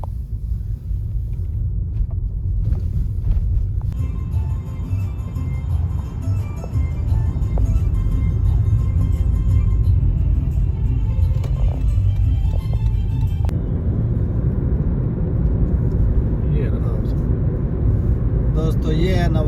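Car interior on a drive to the airport from London, a loud steady low engine and road rumble throughout with faint rattles and tones above.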